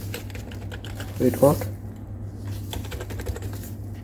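Keys clatter on the membrane keyboard of an Asus TUF A15 laptop in a brief close burst of typing, set over a steady low hum, with a short spoken exclamation nearby.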